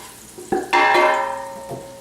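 Onions frying in a pan as they are stirred, a sharp scrape followed by a loud burst of sizzling that slowly fades, with a second light scrape near the end and no talking.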